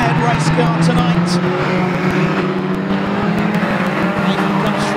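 Reliant Robin and saloon stock cars racing at Mildenhall in a British banger final, a dense roar of several engines with tire noise, heard continuously under a commentator's loud voice.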